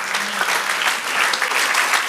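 A church congregation claps in sustained applause for the Lord during a Spanish-language sermon, a dense steady patter of many hands filling the whole stretch with no break.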